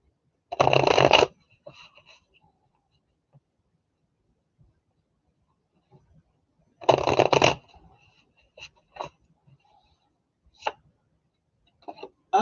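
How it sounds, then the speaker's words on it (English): A tarot deck shuffled at close range in a quiet room, with two brisk riffling bursts separated by a long pause and scattered light taps and clicks of cards being handled. "Let me give a couple shuffles here."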